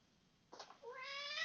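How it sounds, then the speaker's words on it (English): A cat whines with a drawn-out meow, a soft brief sound followed by a rising, sustained nasal cry, fairly faint and close, no talk over it. "I don't know if you can hear the cat. He's whining"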